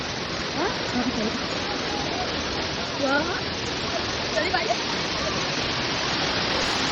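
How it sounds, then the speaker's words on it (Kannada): Sirimane waterfall heard as a constant loud broadband roar of falling water, close and unbroken, with faint voices barely audible beneath it. "ನೆಕ್ಸ್ಟ್ ನಾವು ಸಿರಿಮನೆ ಫಾಲ್ಸಿಗೆ ಅಂತ ಬಂದ್ವಿ."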